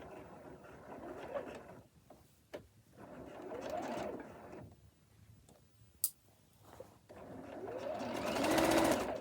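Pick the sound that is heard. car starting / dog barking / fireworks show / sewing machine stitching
sewing machine stitching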